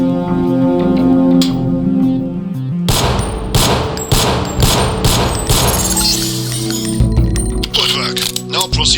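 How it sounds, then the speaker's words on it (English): Target-practice gunfire in the Deus Ex training mission, a string of sharp shots ringing out after a music-backed opening and recurring over about six seconds, up close amid continuous game sound. "Release the second target and aim before shooting this time."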